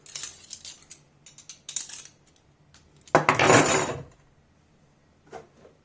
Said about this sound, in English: spoons